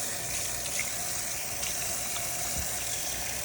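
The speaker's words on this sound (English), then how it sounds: "I put in water, because you just want to rinse the chicken first" Water runs steadily from a kitchen tap over raw chicken being rinsed, a constant close hiss and splash with no break.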